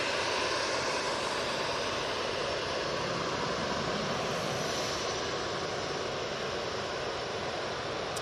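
Airbus A330 jet airliner taking off at Manchester Airport, a continuous broad roar of jet engines that holds steady and loud throughout, with no talking over it.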